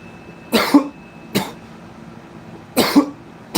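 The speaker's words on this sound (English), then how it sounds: "it makes me cough more than actual dabs" Four sharp coughs, two close pairs separated by a pause, harsh and near, with a faint steady hum underneath.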